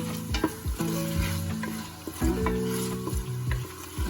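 Catfish stirred in olive oil in a pan, a steady close frying hiss with soft scraping stirs, over a backdrop of tonal background music.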